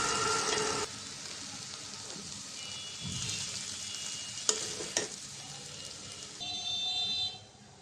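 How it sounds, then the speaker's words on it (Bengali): Fried sweet pumpkin sizzling in a pan as it is stirred and lifted out, a steady close hiss of frying oil broken by scraping spatula strokes and a couple of sharp metallic knocks, with no talking. "মিষ্টি কুমড়া ভাজি হয়ে গেছে, নামিয়ে নিব।"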